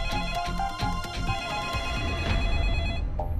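A telephone rings indoors with a bright, repeating electronic bell tone, loud and close, pulsing rapidly for a few seconds before stopping.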